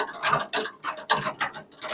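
A snowblower mechanism cranked by hand during lubrication, giving close, loud repeated ratcheting clatters of metal gears in uneven bursts roughly every quarter second.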